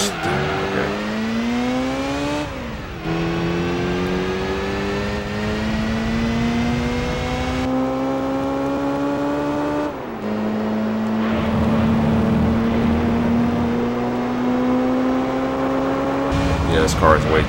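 Race car engine in Gran Turismo 3 on PlayStation 2, loud and continuous, revving up through the gears with repeated rising pitch sweeps and sharp gear-change drops, plus some tire noise. A voice talks over it throughout.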